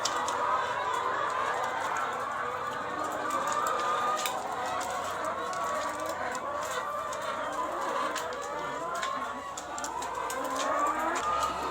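Laying hens in an egg-farm coop of about 450 birds, a steady dense chorus of clucking and cackling with an occasional rooster-like call, continuous and close throughout.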